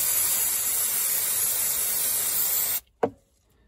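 An aerosol can of brake cleaner hisses loudly and steadily onto engine parts of a 2012 Range Rover Sport SDV6, then cuts off, followed by a single short clack.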